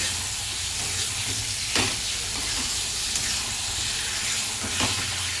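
Fish dropped into spice paste already fried down in a pan, raising a loud, steady sizzle with a few sharper spitting bursts along the way. No one speaks.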